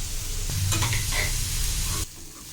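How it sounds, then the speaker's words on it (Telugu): Onions and green chillies fry in hot oil in a pan, giving a loud, dense sizzle with spatula scraping that cuts off abruptly near the end. "ఆయిల్ పోసుకుందాం ఉల్లిపాయలు వేసుకొని వేపుకోవాలి బాగా అలాగే పచ్చిమిర్చి కూడా"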